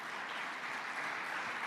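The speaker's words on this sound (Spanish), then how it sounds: "El aplauso para ellos" Conference audience applauding speakers at a construction-industry expo, a steady, dense wash of distant clapping that holds evenly throughout.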